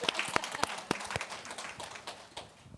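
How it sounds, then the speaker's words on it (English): Audience clapping for the presenters at the close of an emergency preparedness and response panel, a scattered run of hand claps that starts sharp and thins out over a few seconds. "please go ahead and clap."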